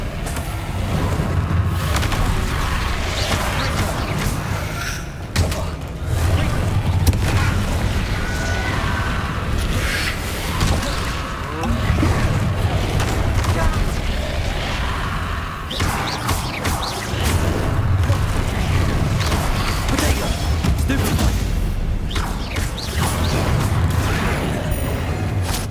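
Magic spell blasts and explosions in the video game Hogwarts Legacy, a steady stream of booming thuds and bursts layered over continuous game noise with little pause.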